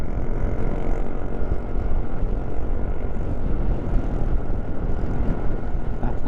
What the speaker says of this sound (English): Now we'll see how good of an engine you are. It's all uphill.